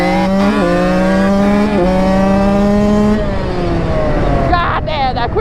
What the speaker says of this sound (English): That thing is quick. We got the race quad, 430cc.